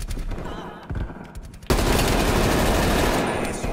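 Rapid automatic gunfire from Call of Duty Cold War gameplay, a dense sustained burst that cuts in loud and continues to the end after quieter scattered shots at first.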